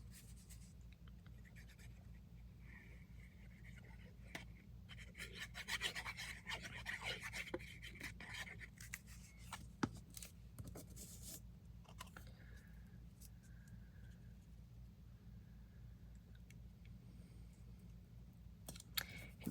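Quiet scraping and rasping of an edge being trimmed on a tag piece for a vignette box craft project, with scattered small clicks and scratches over a steady low hum, no voices.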